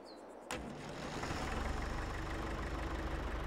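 A tractor engine idles in the video game Farming Simulator 22, a steady low rumble that starts with a sharp click and settles into an even, close drone, with no voices.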